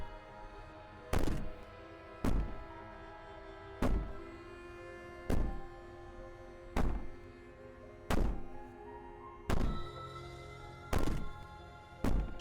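Heavy, hollow thuds from a princess pounding on a wall in the game Slay the Princess, nine evenly spaced blows about every 1.3 seconds over a low droning ambience, each strike loud and close.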